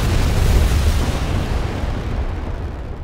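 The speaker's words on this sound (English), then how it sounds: "Liftoff. We have a liftoff." Rocket engines at liftoff give a loud, continuous low rumbling roar, heavy and sustained throughout with a broad crackling texture and no talk.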